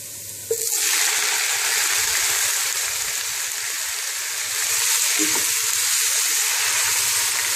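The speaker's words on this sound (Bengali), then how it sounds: "আমার পেঁয়াজ রসুনগুলো ভাজা হয়ে গিয়েছে। আমি এখন টমেটো কাটা ঢেলে দেব।" Chopped tomatoes hit a pan of fried onion and garlic with a sudden loud sizzle for a tomato fry, then keep frying with a steady, close, crackling hiss that continues to the end.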